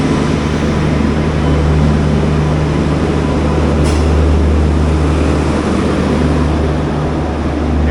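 A passenger train stands at Krishnarajapuram station on the Palakkad to Bengaluru run, heard from inside an AC 3-tier coach. A steady, loud low hum and broadband rumble of idling equipment continue throughout, with no talking.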